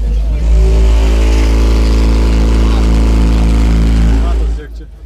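A Volvo car stereo built for an extreme-class loudness contest booms at enormous volume, a dense sustained low roar with stacked tones that holds for about four seconds and then cuts off abruptly.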